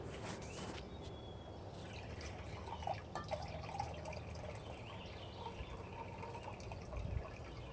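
Water trickles and drips into a measuring cup sitting on a kitchen scale, a quiet uneven pour with small splashes throughout.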